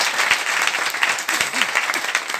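An audience at a motivational business talk claps steadily throughout, a loud, dense wash of applause from a large crowd with no pauses.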